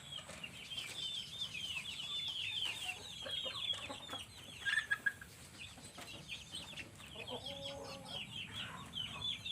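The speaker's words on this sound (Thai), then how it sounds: "ผมจะพามาดูไก่ดำด้วยค่ะ" Black chickens cluck and murmur steadily in a busy coop, with brief wing flaps and scattered calls over a low background hum.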